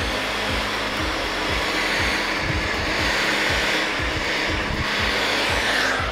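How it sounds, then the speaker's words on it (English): A hair dryer blows steadily and loudly on hair being rolled around a real bristle brush, a constant close whooshing roar with a faint rhythmic flutter underneath. "With your hairdryer, just for a few seconds, and then release it."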